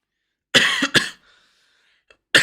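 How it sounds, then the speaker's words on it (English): Two sharp, dry coughs in quick succession, close and loud, followed by a faint rasp and another cough starting at the end. "I still have like a cough"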